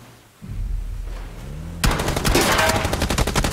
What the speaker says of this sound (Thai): เลส เอาแล้วโดนยิงมาตรงนี้